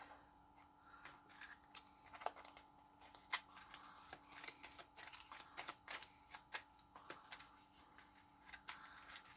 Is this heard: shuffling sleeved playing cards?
yes